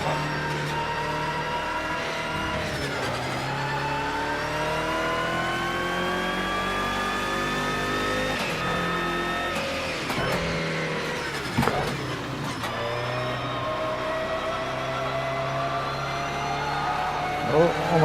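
A BMW race car engine in a racing sim on PS4 revs and climbs through gears, a steady droning whine rising and falling with shifts, with someone talking over it.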